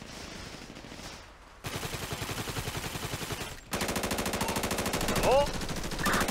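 Rapid automatic gunfire in a video game, first a dense steady burst and then a louder, faster stream of shots, close and continuous, after a quieter opening with a brief spoken word.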